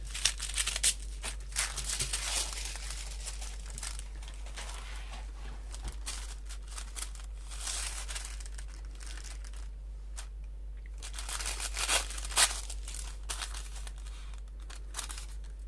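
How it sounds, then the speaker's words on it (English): Paper being torn and crumpled from an altered book for a junk journal collage, a run of irregular ripping and crinkling bursts, close and fairly loud, with a steady low hum underneath and no talk. "rip off some more of this here"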